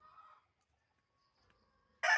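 A chicken gives a short cluck, then after a quiet pause a louder, sharp squawk bursts out close by.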